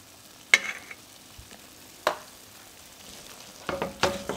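Cauliflower being stirred and worked with heavy cream in a hot pan, giving a few separate scraping strokes around half a second, two seconds and near the end, with faint sizzling between them and no talking.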